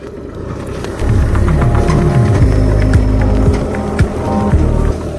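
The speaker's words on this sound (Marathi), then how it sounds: "तर पप्पा आलेत घेऊन ट्रॅक्टर" A tractor engine rumbles loud and close as it arrives to till a farm field, a deep steady chugging that rises and shifts in pitch as it runs.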